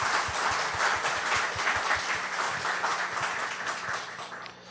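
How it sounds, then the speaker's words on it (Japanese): Dense audience applause in a church hall at a Sunday service, welcoming a pastor; steady, full clapping from many hands that holds for several seconds and fades slightly at the end. "목사님 잠깐만 일어나 주시면拍手で迎えたいと思います。"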